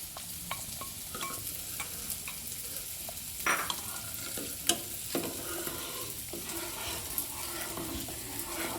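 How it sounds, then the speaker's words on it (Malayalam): Finely chopped carrot sautéing in ghee gives a low, steady sizzle with occasional scraping stirs and a few sharper clicks, fairly quiet and without any talking. "അത് നമ്മൾ നെയ്യിൽ നമ്മളിത് വഴറ്റിക്കൊണ്ടിരിക്കുന്നു"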